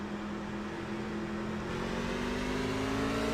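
Engines of the NASCAR Truck Series race trucks at Kansas drone and rise steadily as the field rolls off at the green flag, a loud continuous rumble with climbing pitch.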